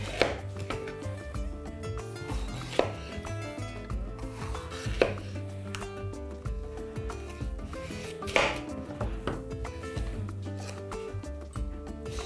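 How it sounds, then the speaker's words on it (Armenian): A knife cuts sweet bell pepper into sticks on a board for a warm Chinese cabbage salad, with a few sharp, scattered chops over steady background music. "Սա էլ ենք կտրատում ձողիկների։"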